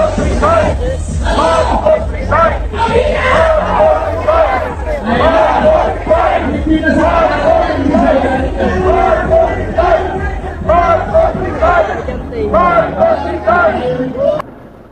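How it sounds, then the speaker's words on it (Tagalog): A large protest crowd at the EDSA People Power Monument shouts and chants together in rhythmic bursts, loud and sustained, with voices echoing across an open space. "pakinggan po natin ang sigaw dyan sa EDSA People Power Monumento"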